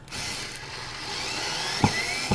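A PKEY CS1931A cordless screwdriver motor spins steadily up close, a continuous buzzing whine that rises slightly in pitch, with a couple of short clicks near the end.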